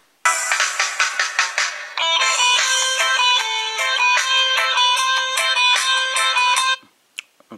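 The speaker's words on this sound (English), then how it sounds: "So audio is pretty loud. It gets muffled again if the phone is flat on its back" Loud music plays through a Samsung Galaxy S5 phone speaker: a rapid run of plucked, bell-like notes, then a denser sustained melodic passage that stops abruptly, followed by a few faint clicks.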